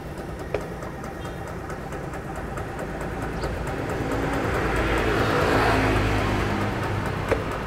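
An Attila Elizabeth FI fuel-injected motor scooter engine idles steadily as a continuous low rumble that swells slightly toward the middle, with a couple of faint clicks and no talking.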